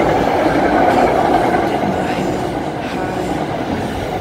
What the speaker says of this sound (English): And that's one of the trains passing.